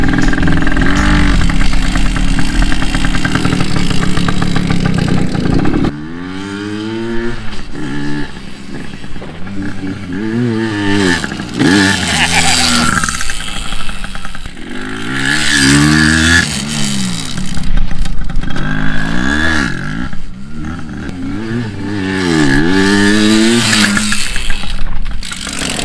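A cheaply rebuilt dirt bike engine runs loud and close, revving repeatedly in rising and falling sweeps, with brief idle dips between pulls and no talking.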